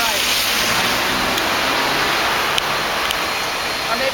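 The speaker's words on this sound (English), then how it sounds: "And that's really starting to rain." Rain falling outdoors, a dense steady hiss filling the whole clip with faint scattered ticks, loud and continuous with no clear voices.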